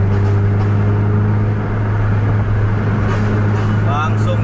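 Bus engine in a bus racing video game roaring steadily at high revs while overtaking, a loud continuous drone with a commentator talking over it.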